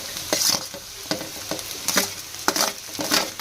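Chopped onion frying in a little oil in a pan, a soft continuous sizzle broken by repeated scraping stirs at a loose, uneven rhythm, close and moderately quiet.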